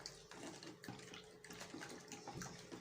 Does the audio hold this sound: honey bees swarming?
no